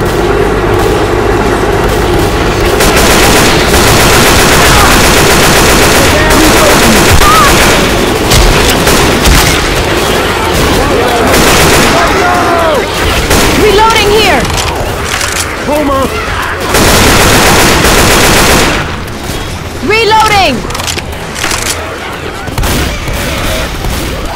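Heavy video game machine gun fire with booms and explosions, loud and sustained throughout, while players shout and talk over the shooting.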